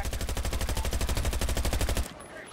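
Automatic gunfire in the video game Battlefield 2042, a loud, rapid, evenly spaced burst of shots lasting about two seconds before cutting off.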